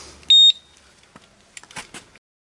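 Radikal RK10 alarmed disc lock sounds a single sharp, loud electronic beep, then falls silent; faint handling clicks and rustles of the lock being moved follow.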